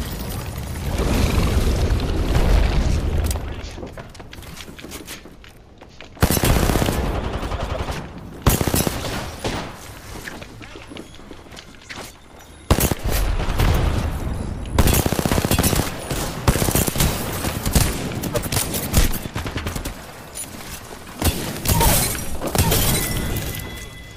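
Automatic weapons in Apex Legends fire in dense, loud bursts, rattling almost without pause across the whole stretch, with brief quieter gaps between volleys and occasional shattering cracks mixed in.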